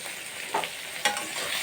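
Ground chili and Kashmiri chili powder being stir-fried in a pan for ghugni and alur dom, a soft continuous sizzle with two sharper stirring scrapes, close and fairly quiet.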